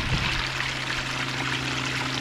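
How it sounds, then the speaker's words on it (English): Excess water spills steadily over gold cube trays into a pump reservoir, a soft continuous pouring trickle with a faint pump hum beneath it. "The excess water will flow over and feed our pump reservoir, which is currently taking place right now."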